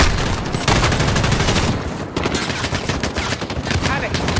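Dense, rapid gunfire from Call of Duty Modern Warfare 2 rattles on loud and close in sustained automatic bursts with only brief gaps, filling the whole stretch.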